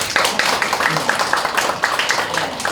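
A church congregation applauds during a thanksgiving service for a new sanctuary, with steady, dense clapping that holds at an even level for a few seconds while a voice carries faintly underneath.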